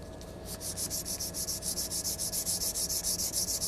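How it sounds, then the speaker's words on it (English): Rhythmic back-and-forth scraping of abrasive on a Damascus steel kitchen sword blade, close and steady, with quick even strokes repeating about seven times per second. "sanding it really quick"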